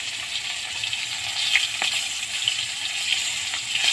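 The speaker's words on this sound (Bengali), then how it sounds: "এবার আমি ভেজে নেব মাছ দুটো" Two pieces of fish coated in salt and turmeric fry in hot oil with a steady, bright crackling sizzle and a few sharper pops, close and unbroken, with no voices.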